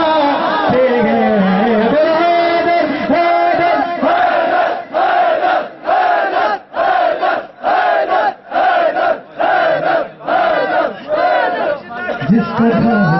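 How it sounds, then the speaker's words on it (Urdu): A crowd at a religious celebration in Butto Bazar, Skardu, chants the Naara-e-Haidari slogan in loud rhythmic bursts, a repeated call-and-response pattern of roughly a dozen shouted phrases separated by short pauses, close and dense. "نعرے حیدری لگاتے ہیں"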